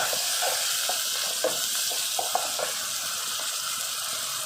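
Asafoetida and ginger-garlic paste stirred in a pan with oil, a steady soft sizzle under light scraping strokes of a spoon, close and even, with a few brief louder taps against the pan.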